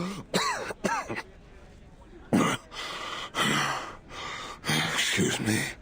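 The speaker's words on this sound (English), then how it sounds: "A passenger leans there, coughing hard, drawing the attention of the steward." Harsh, hard coughing and throat clearing from an unwell passenger aboard a train in the video game Reverse 1999, several loud bursts separated by short pauses and heard alone, with no talk over them.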